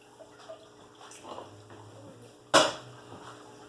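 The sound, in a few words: pouring beef broth over smoked chuck roast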